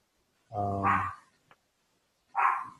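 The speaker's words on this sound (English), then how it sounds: "Excuse my dog barking." A dog barks twice indoors during an online committee meeting: a loud, harmonic bark followed by a second sharp bark after a short pause, close to the microphone.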